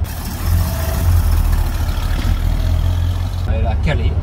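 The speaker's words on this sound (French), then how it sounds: "Une fois qu'on a changé le moteur, on a essayé un peu l'auto" A car engine running after an engine replacement, a steady low rumble near the microphone that holds for several seconds before cutting out abruptly, followed by a brief voice.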